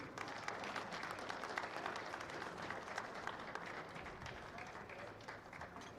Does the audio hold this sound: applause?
yes